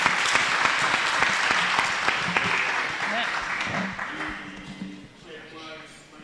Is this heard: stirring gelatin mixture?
no